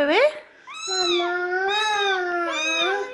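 A kitten meows indoors in a drawn-out, wavering cry, preceded by a short high call, close to the microphone.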